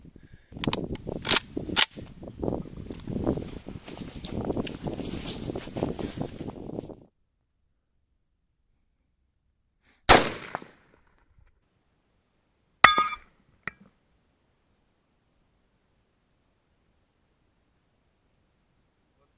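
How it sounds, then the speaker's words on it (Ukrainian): A burst of sharp cracks and rattling, then silence broken by a single loud 7.62x39 rifle shot at an armor plate from 100 meters and, a few seconds later, another sharp metallic crack. "Стріляти будемо армійським патроном 762 на 39."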